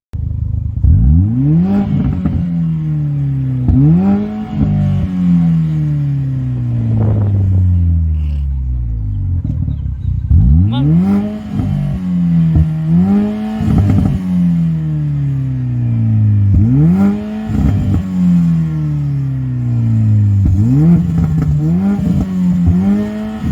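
A Mercedes CLA45 AMG W117 with a Stage 1 tune and a BMW M135i F20 rev hard in repeated loud bursts, each engine note climbing and then sliding back down, close and continuous, with no talking.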